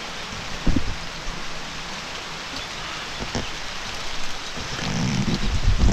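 Steady rain falls outdoors on a farm during a squash harvest, a dense continuous hiss of drops with a few louder splashes and thumps, growing slightly heavier toward the end.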